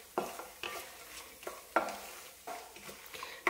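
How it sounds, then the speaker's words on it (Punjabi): Dry fruits roasting in ghee in a pan for carrot halwa: a spoon scrapes and stirs in regular strokes, each with a short metallic clink over a soft sizzle, close and clear. "dry fruits ਭੁੰਨੇ K"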